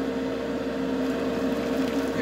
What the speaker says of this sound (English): The extractor fan's on.